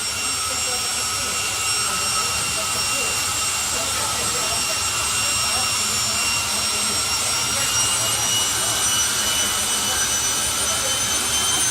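A jet dragster's engine roars steadily at a drag race meeting, a loud unbroken whine and rush filling the whole stretch while a commentator speaks over it.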